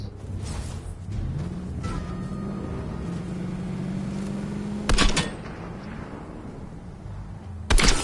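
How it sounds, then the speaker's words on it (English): A car in the Fortnite video game drives up behind the players, its engine a steady hum that rises in pitch and then holds, broken by two sharp, loud bangs near the end. "There's a car behind us."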